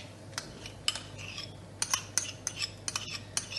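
A spoon clinks repeatedly against a pan while crème fraîche is added to a chicken curry, giving a series of light, irregular metallic taps that are close and fairly quiet.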